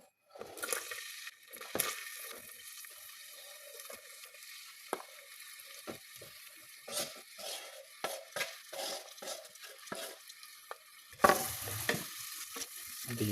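Onions frying in olive oil in a pan, a low steady sizzle broken by frequent clinks and scrapes of a utensil stirring, close up and without speech.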